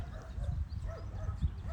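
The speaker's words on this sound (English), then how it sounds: "Yes, it's a dog." Dog barks and yips in a few short bursts at moderate distance, with a rolling low rumble and faint background voices; near a lion cub rescue enclosure.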